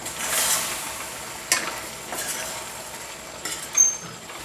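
A teaspoon of coriander powder is stirred into frying chicken for a chicken fry, giving soft intermittent scrapes and clinks over a gentle, quiet sizzle.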